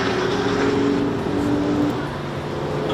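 A 2018 Volkswagen Amarok pickup drives hard on the Nürburgring, its engine droning steadily from inside the cabin with road and wind rumble, loud and continuous, briefly easing near the end.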